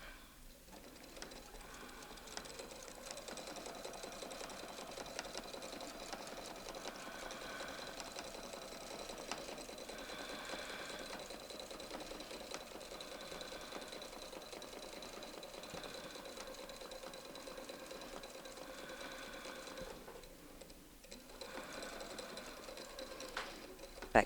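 A domestic sewing machine stitches free-motion quilting with a ruler foot against a circle template, a faint continuous whirring hum with rapid needle chatter that briefly pauses and resumes near the end.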